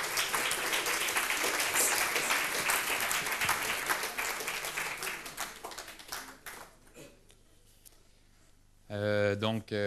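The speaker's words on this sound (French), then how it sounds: "Sous vos acclamations, s'il vous plaît" An audience at a geomatics seminar bursts into loud, dense applause welcoming a speaker, which gradually thins and fades out, followed by a voice beginning to speak at the end.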